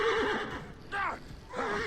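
A horse in Assassin's Creed Origins gives a couple of clear whinnies with falling, shaky pitch, fairly quiet and close, over a low game background.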